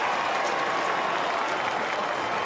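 A dense, steady roar of a stadium crowd cheering and clapping at an Australian football match between the Western Bulldogs and GWS, loud and continuous throughout with no gaps.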